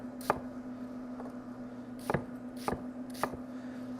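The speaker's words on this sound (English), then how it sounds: "So here we have all our vegetables getting cut." A knife chops vegetables for risotto on a cutting board, five sharp separate knocks at uneven intervals over a low steady hum, fairly quiet and close.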